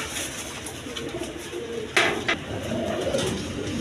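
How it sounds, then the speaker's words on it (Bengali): A pair of cream-coloured Mondain pigeons coo softly and continuously in a loft, with a couple of brief knocks partway through and no voices. "দর্শক এইখানে এক পেয়ার মন্ডিয়ানা আছে, মন্ডিয়ান ক্রিম কালার"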